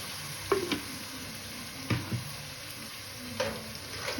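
Tomatoes frying in a pan with a steady, loud sizzle throughout, broken by three scraping stir strokes spaced about a second and a half apart, close up with no talk.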